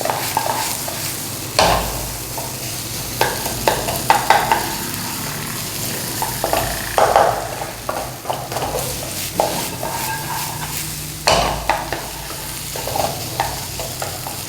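Potatoes and onions sizzle steadily in a hot pan while a spoon stirs and scrapes them in repeated bursts, the frying hiss continuous and close, with occasional clinks against the pan.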